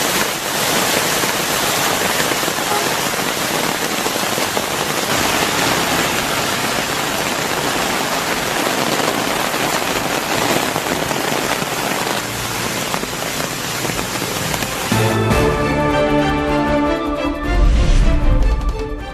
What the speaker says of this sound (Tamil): டிட்வா புயல் காரணமாக நாகை மாவட்டம் வேதாரண்யம் மற்றும் சுற்றுவட்டார பகுதிகளில் கனமழை.